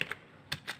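A few quick keystrokes on a computer keyboard while typing C code, four soft clicks in two pairs, close and quiet with no talking.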